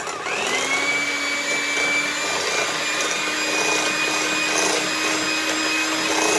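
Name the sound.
electric mixer mixing cake batter on medium speed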